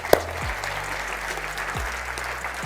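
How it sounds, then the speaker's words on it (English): Audience clapping at a motivational talk, a steady wash of applause from a sizable crowd, fairly even and sustained, with a sharp single knock near the start and low hum underneath. "Let's clap it up for them."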